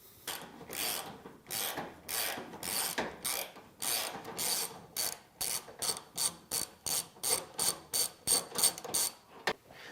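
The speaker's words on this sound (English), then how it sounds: "we can now take our socket and our extension and ratchet and go right through to remove the bolts that hold the shock" Socket ratchet with extension turning out the bolts that hold a shock absorber on a Samsung washer: a long run of quick rhythmic ratcheting clicks, bursts getting shorter and sharper toward the end, close and alone without talk.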